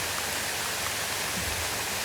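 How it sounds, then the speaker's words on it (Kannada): A village waterfall near Jog pours steadily on a rainy day, a broad, even rush of water with no break, fairly close and alone with no talk. "ನಮ್ಮ ಊರಿನ ಜಲಪಾತ ಅಂತ ಹೇಳ್ಬೋದು"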